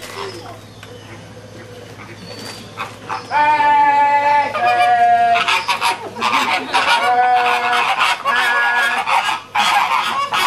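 Flamingos honking loudly as a group during a marching flamingo show, their nasal calls piling up and overlapping after a quieter opening few seconds.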